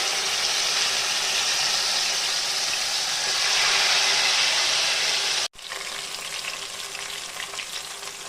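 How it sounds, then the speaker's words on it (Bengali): Chicken steak sizzles loudly and steadily in hot oil in a nonstick frying pan, the sizzle briefly cutting out for a moment before resuming just as strongly. "এবার তেল গরম হয়ে যাওয়ার পর আমি আস্তে আস্তে চিকেনটাকে"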